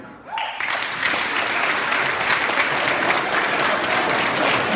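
An audience claps together inside a historic synagogue during a comedy set, applause swelling quickly and holding steady and fairly loud throughout.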